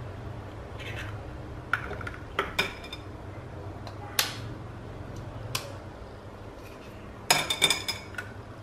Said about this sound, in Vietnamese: mình lấy 3 quả trứng này mình đập ra ha